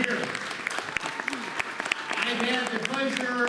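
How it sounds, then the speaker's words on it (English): Audience at a magic show during a Six Flags Fright Fest clapping steadily, a moderate round of applause with scattered cheering voices mixed in. "Would you give them a big round of applause?"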